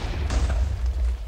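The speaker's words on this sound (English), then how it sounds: "There's like TNT exploding everywhere." TNT blows up in a Minecraft team deathmatch, a heavy, booming explosion with deep rumbling and a sharp crack partway through, loud and close.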